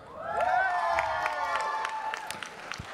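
A big crowd at an F1 in Schools world finals knock-out event in Singapore cheers and claps in a sustained roar, with shouts and whistles rising over steady applause, fairly near and loud.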